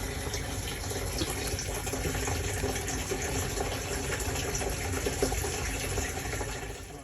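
Gasoline sprays steadily from a disconnected fuel hose on a flood-damaged Porsche 911 Turbo, a continuous hissing gush like a running tap, unbroken and fairly close for the whole stretch.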